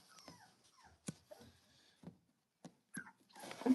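A puppy whimpers and yips in short, soft bursts separated by quiet gaps, fairly close and faint, with no one talking.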